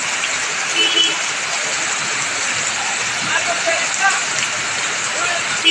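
Heavy rain pouring without pause during flooding, a dense, loud, steady hiss of water falling on surfaces with faint splashes mixed in.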